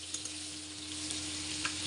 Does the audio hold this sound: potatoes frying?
yes